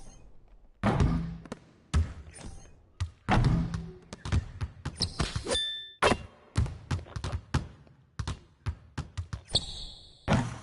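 Basketball bouncing during solo shooting practice, with repeated hard thumps on the floor and occasional ringing clangs off the rim, irregular and close, the bounces coming in quick clusters between pauses.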